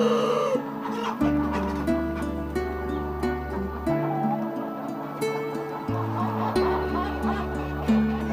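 Chickens cluck and a rooster calls on a poultry farm in Nepal, the bird sounds mixed beneath a steady melodic music bed.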